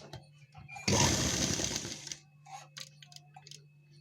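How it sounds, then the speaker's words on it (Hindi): Sewing machine stitching sharara fabric panels together in a steady, close, loud run of rapid needle strokes for about a second, then falling quiet with faint clicks. "यहाँ पर सिलाई लगाएंगे।"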